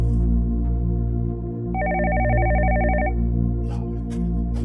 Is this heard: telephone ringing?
yes